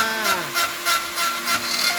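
Holes are worked into the legs of a chair made from hundred-year-old teak, producing close, rhythmic rasping strokes about three per second, with no voices.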